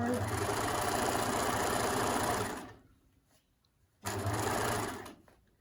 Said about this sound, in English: It's got a little bit of a stretch in it, so I'm just being careful with it as I sew.